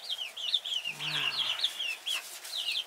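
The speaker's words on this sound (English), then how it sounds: "Oh, look at the size of that chicken." A large hen clucks softly and steadily at close range, a low throaty run of clucks with other fowl chirping around it in a quiet farmyard.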